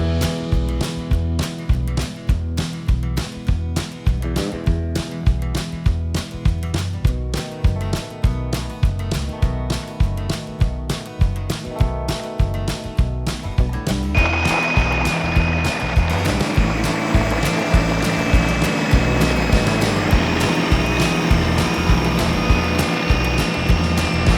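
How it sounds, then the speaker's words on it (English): A snow blower clears snow off an ice rink with a loud, steady engine drone and a rapid pulsing chop, shifting partway through into a smoother, brighter roar. "I just finished up snow blowing."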